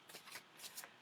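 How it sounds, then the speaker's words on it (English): A deck of playing cards is shuffled for a live card reading, with several quick papery riffling bursts in close succession and no voices. "Would you like me to draw you a card, Linda?"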